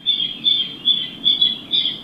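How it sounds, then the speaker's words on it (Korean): A Guam rail's high, repeated calls sound in five or six regular bursts roughly every half second, with soft background noise underneath. "이 새소리는 괌을 상징하는 대표적인 새, 괌뜸부기 소리다."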